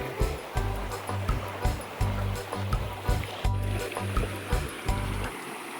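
River water runs among stones in the Brazilian sertão in winter, a close, continuous rushing with choppy, rhythmic surges and splashes.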